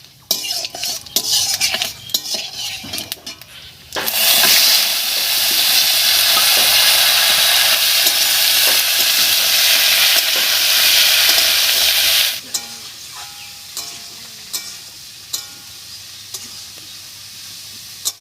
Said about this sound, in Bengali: ফোড়নের উপরে একটু আলুটা দিয়ে একটু নাড়িয়ে নিয়েছি আর এই অবস্থায় একটু ভাজা ভাজা মতো করে নেবো